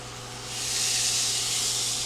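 A steak laid into a hot, smoking pan sets off a loud sizzle. The hiss swells within the first half second and then holds steady and close, with no talking.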